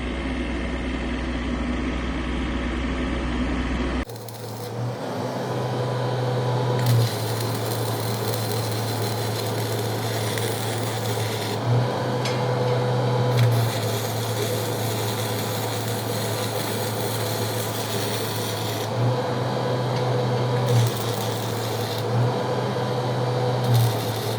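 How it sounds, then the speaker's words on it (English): Arc welding in a shed, a steady loud crackling buzz that runs continuously for a long stretch, with a low hum underneath and brief shifts in tone, no talking. "There we are, some very good welding, all done."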